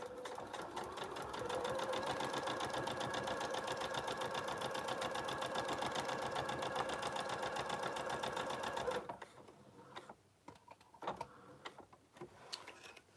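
A sewing machine stitches a quilt block seam in a fast, even mechanical rattle for several seconds, then stops, leaving a few quieter clicks and handling sounds.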